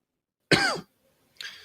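A single harsh cough rings out close up, followed a moment later by a shorter, quieter rasp of breath or throat clearing.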